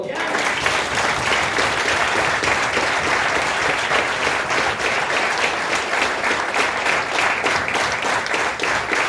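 An audience at a marketing company seminar claps in a sustained burst, loud and close with dense, continuous hand claps holding steady for several seconds, a few individual claps standing out.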